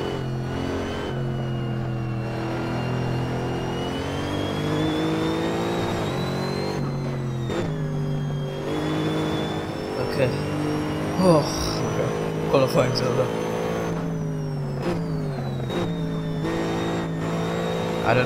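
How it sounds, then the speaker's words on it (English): Mercedes-Benz SLS AMG GT3 race car engine in the Assetto Corsa racing game at Spa, revving loudly and dropping through repeated downshifts with rising blips, tire squeal here and there, while someone talks over it. "I'm just downshifting so much because I just love the downshifts"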